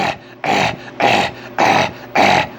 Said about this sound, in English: Why is your dog breathing like that? Because it's brachiocephalic.